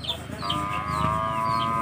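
After beating a bigger, older duck in a fight, a chicken clucks close by, with short calls early on and then a steady drawn-out tone over a low rumble of background noise.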